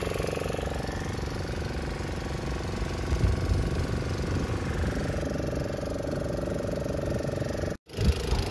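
A fishing boat's engine runs steadily out at sea in a continuous mid-pitched drone with a rapid knocking pulse. It stays loud and even throughout, then briefly cuts out near the end before resuming, with no talk over it.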